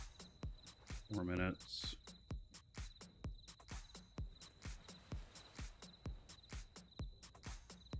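Crickets chirping in the ambient soundtrack of the space game Dual Universe, a steady rhythmic pulse of high chirps repeating throughout, with a brief rising warble and someone talking over it.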